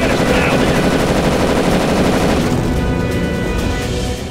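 A turret machine gun in the shooter video game Darkest of Days fires in a dense, continuous, loud burst of rapid shots that stays steady and slightly thins toward the end, with no talking.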